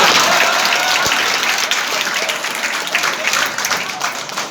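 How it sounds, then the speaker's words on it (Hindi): Audience applause at a college poetry conference, a dense, sustained clapping from a crowd that gradually tapers off, close and fairly loud. "पीछे से तालियां ज्यादा बज रही हैं"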